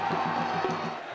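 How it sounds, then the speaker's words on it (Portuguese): Football supporters of Rio Negro cheering steadily through a home match goleada against Nacional Borbense, a dense crowd roar holding at an even level with a brief swell partway through. "a torcida continuou a incentivar o time"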